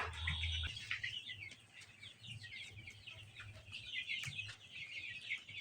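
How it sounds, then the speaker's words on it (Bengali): A flock of around 200 layer chicks, a month and a half old, peeps and chirps continuously at close range, with a low rumble underneath and no talking. "এই দেখুন আমার লেয়ার মুরগির বাচ্চা।"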